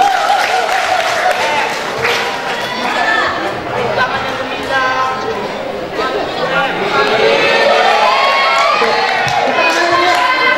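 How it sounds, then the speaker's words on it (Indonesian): High school students at a motivational road show clap and cheer for a classmate named Miza, a loud mix of applause, shouts and excited chatter from a packed crowd that swells toward the end. "Tepuk tangan buat dia."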